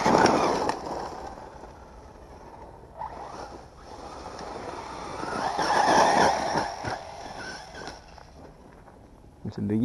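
Hobao Hyper 9 3S electric RC buggy driving and skidding across the ground, with a whining motor and rasping tyre scrubs that swell and fade as it passes, partly mixed with talk.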